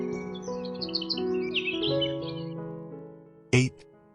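Songbirds chirping at vintage teacup feeders filled with seed among flowers: a quick flurry of high twittering calls over a sustained musical tone, followed by a single sharp louder chirp near the end.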